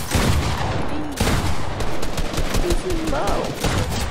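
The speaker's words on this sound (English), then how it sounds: "Who the fuck is shooting at me?" Gunfire in the video game Fortnite: rapid, dense bursts of shots crackling almost continuously, loud and close, with short breaks between volleys and a player's voice talking over them.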